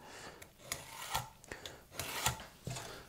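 Hand sanding of a wooden Les Paul guitar body blank, a series of uneven raspy strokes at close range, some sharper and louder than others, with short pauses between them.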